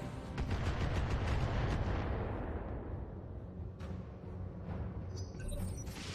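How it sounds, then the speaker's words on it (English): Loud, dense barrage of rocket and weapon fire aimed at the player in the BattleTech mech video game, with rumbling blasts and sharp impacts layered continuously, swelling near the start and again toward the end. "Please stop shooting rockets at me."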